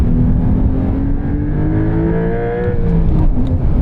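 A 2024 Porsche 911 Carrera T with its base turbocharged engine accelerates hard, a loud continuous rising drone heard from nearby, with pitch climbing steadily through the run and no voices.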